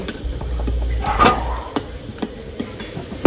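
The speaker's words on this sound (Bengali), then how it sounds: "আলুগুলোকে আমি লাল লাল করে ভেজে নিয়েছি" Potatoes frying in hot oil until reddish-brown give a steady, close sizzle with a low rumble beneath and scattered sharp crackles and clicks, ending in a louder knock.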